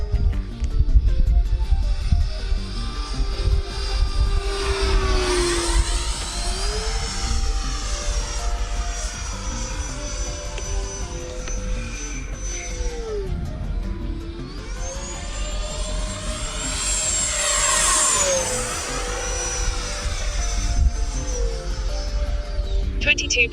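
A powerful electric RC airplane performs aerobatic passes overhead, its whining motor rising and falling in pitch as it swoops past twice, loud and continuous, with a steady background hum throughout.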